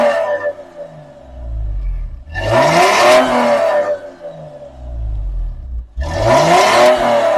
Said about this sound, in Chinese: 那种加速的时候后面冒黑烟，